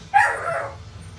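A puppy gives a single short, loud bark or yip up close in a honey processing plant, then a low background hum carries on with no talk.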